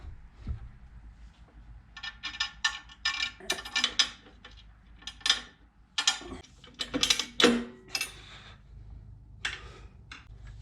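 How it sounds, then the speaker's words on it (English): Mechanical clicking and ratcheting while the center bolt of an engine guard is fitted on a 2020 Harley-Davidson Heritage FLHC, irregular metallic ticks and taps in bursts over about ten seconds, close and fairly quiet. "we're going to attempt to get this center bolt in now"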